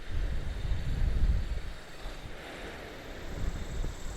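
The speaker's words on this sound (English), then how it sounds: "Man, it's so windy." Strong outdoor wind buffets the microphone near a reef on a windy morning, a low rumbling roar that swells and eases in gusts, with no voices.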